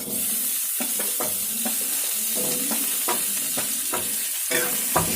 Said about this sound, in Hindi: आलू को भी अच्छी तरीके से भून लेते हैं।